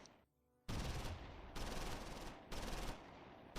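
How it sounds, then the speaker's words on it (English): Bursts of machine-gun fire from dual machine guns in the WWII tactics game Close Combat, three or four loud, dense rattling volleys in quick succession after a short quiet lead-in, with no speech. "I'll use these dual machine guns to suppress this as we move in on it."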